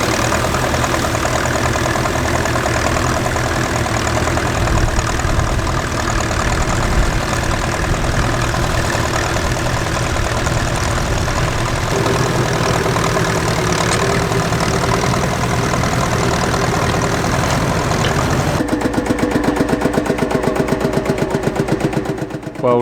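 A grey Ferguson tractor engine labours steadily in tough going at a working day, a loud continuous low rumble that holds for the whole stretch and grows slightly heavier toward the end.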